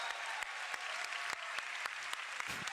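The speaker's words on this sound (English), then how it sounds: "Give a round of applause for Chocobos." Applause from a streaming audience celebrating Chocobos from Final Fantasy VII, a steady wash of clapping with sharp individual claps standing out, heard alone at moderate level.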